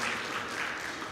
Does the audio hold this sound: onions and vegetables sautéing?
no